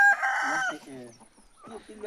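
Free-range village chickens and a rooster in a farm animal shed, the rooster crowing loudly and close for about a second, followed by softer clucks; people talk briefly nearby.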